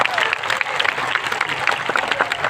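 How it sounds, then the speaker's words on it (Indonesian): A crowd at a religious haul gathering in Indonesia claps for a regent, a lively burst of overlapping handclaps with scattered voices mixed in. "Tepuk tangan untuk Pak Giri."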